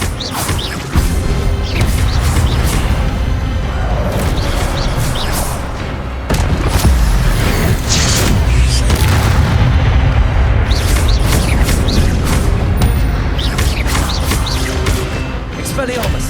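Rapid spell blasts and booming impacts from combat in Hogwarts Legacy, loud and nearly continuous, with a voice talking over the fight.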